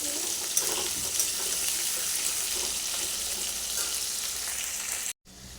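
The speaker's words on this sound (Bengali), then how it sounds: "তেল দিলাম আলুগুলো দিয়ে দিয়েছি আলুগুলো একটু ভেজে নেবো লাল করে" Potatoes frying in oil in a home kitchen pan, a steady close hiss of sizzling that runs unbroken for about five seconds, then cuts out briefly before resuming.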